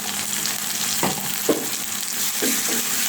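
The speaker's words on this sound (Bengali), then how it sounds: "এবার পেঁয়াজ মরিচের সাথে আদা রসুনগুলো একটু ভালোভাবে ভেজে নিচ্ছি।" Onion, green chili and ginger-garlic paste frying in a pan, a loud close sizzle with a few spatula scrapes and taps breaking through.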